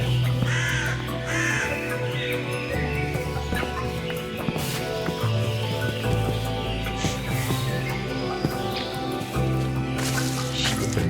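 Crows caw repeatedly in a blocky survival video game world, loud harsh calls recurring over a steady ambient background with no talk.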